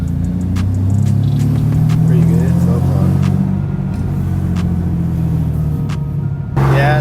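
Turbocharged Infiniti G37 with exhaust leaks cruising along, its engine giving a steady, loud low drone and rumble from inside the cabin, with brief speech over it and small clicks near the end.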